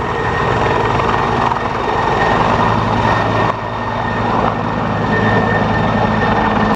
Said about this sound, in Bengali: এটি একেবারে একটি রিয়েলিস্টিক এটি হেলিকপ্টার।